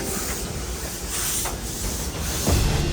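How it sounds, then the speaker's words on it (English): Steady loud hissing and rushing noise of steam venting from a 1917 Vulcan steam locomotive, continuous throughout with a slight swell near the end. "this 1917 Vulcan steam engine train will be doing laps around the historical"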